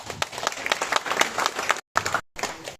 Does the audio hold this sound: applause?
yes